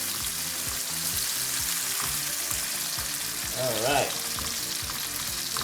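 Onion and vegetables sizzle loudly in a hot pan for spaghetti with ham, a dense, constant frying hiss close up, with a brief spoken word partway through.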